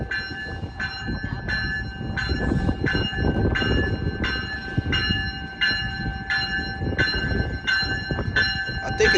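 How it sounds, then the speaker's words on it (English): Amtrak Capital Corridor train 532, bound for Sacramento, at Richmond station, with a steady rhythmic ringing bell over the low rumble of the train, sustained and fairly loud throughout, with voices faintly underneath. "532 Sacramento bound train"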